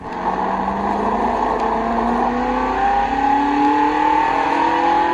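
A race car engine from an Xbox racing game set on the Hethel circuit drones loudly and steadily, its pitch climbing smoothly through the gears as the car accelerates, with no talking.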